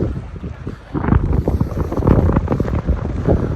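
Strong wind at Tivoli in Copenhagen, Denmark, buffets the microphone with loud, rumbling gusts, rising after the first second and staying rough and turbulent.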